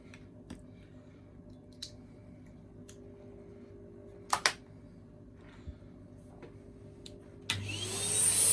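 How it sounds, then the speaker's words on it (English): A Hooverlux vacuum cleaner motor starts up near the end and rises into a loud, steady whine, following a stretch of quiet room hum broken by a few sharp clicks and taps. "That just needs a quick vacuum."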